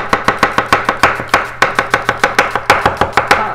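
An onion is chopped on a cutting board with a 240 mm Rowland Cutlery kiritsuke gyuto knife in forced-patina Sheffcut steel: a fast, even series of about twenty crisp, close knocks.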